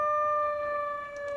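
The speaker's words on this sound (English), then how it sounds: "the old air raid type sound, shark alarm type sound from a hand crank air driven siren" A steady mechanical wail siren of the old air raid type holds a sustained wailing pitch, fairly clear with no voices.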